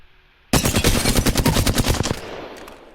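A gun is hip-fired in Apex Legends: a loud, close burst of rapid automatic shots lasting about a second and a half, then a short fading tail.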